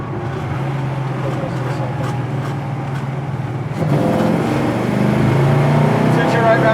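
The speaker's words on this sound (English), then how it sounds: "just want to go through things as we downshift" A 1966 Chevelle big block with a five-speed manual downshifts on the road, its engine droning steadily with a steady low hum, then rising louder near four seconds as revs climb, with road and cabin noise throughout.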